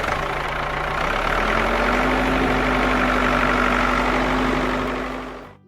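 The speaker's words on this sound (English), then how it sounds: "tractor," A tractor engine runs at a steady idle, a constant low rumble with a faint hum that holds for several seconds before fading out.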